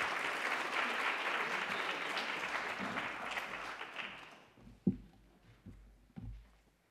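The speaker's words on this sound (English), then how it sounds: "Let's give Lilly a round of applause." Audience applause at a community event, dense steady clapping that fades after about four seconds to a few scattered claps and thumps.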